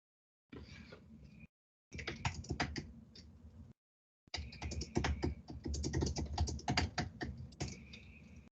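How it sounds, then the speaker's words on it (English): Typing on a computer keyboard during a virtual regional workshop: three bursts of rapid, uneven key clicks, close and clear, with short silent gaps between them and no talk. "I hear typing. Somebody's typing."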